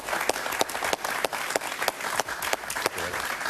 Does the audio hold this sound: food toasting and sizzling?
no